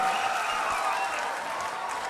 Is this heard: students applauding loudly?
yes